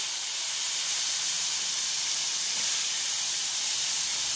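Potatoes fry in hot oil in a pan, making a continuous loud, even hiss and sizzle with no break throughout.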